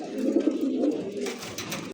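Pigeons at a pigeon farm coo close by in a low, rolling run that fades toward the end, with no talking.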